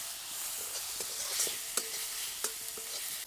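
Chili powder, coriander powder and onion-garlic masala sautéed in a pan, stirred with a utensil: a soft continuous sizzle with occasional faint scrapes and taps.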